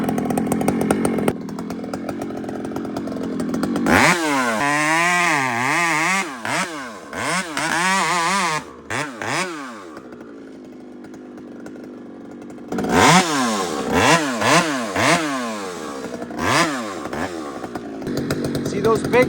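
A chainsaw bucks big firewood rounds from a massive pile, engine revving loud and close in repeated bursts with idle pauses between, while someone talks over it.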